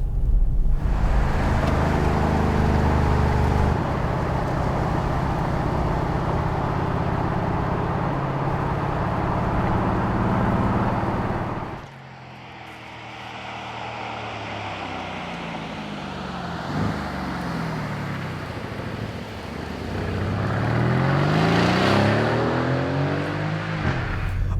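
A Mercedes-AMG GLC 63 S SUV with its 510-horsepower engine drives along the road, a steady loud cabin drone of engine and road noise that drops briefly, then swells again with shifting engine tones.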